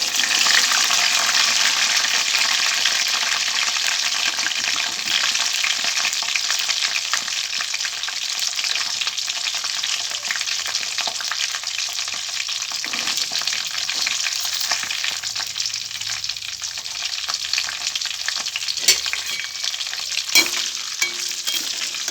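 White sesame seeds and green chillies fry in oil for an amla preparation, making a loud, continuous sizzle with occasional stirring scrapes and no talking.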